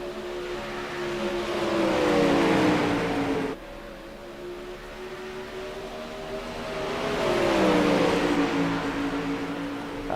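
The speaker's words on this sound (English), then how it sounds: "trying to keep this race car on all fours and rolling how it's supposed to" A dirt sprint race car at Knoxville roars through two rising-and-falling engine sweeps, close and loud, with a sudden cut between them and no talking.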